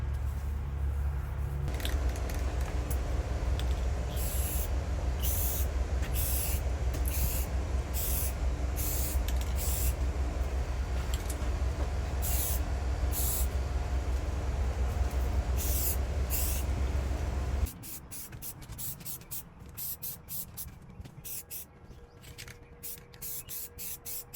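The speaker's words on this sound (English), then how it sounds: "We're just gonna spray some on a paper towel and wipe it down to remove any greases from our hands or oils." Aerosol cleaner sprayed onto a paper towel to wipe down primed GM truck door handles: a steady loud hum with rapid repeated short hissy spray bursts, then a quieter stretch of scattered clicks and rustling.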